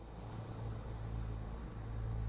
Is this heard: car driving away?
yes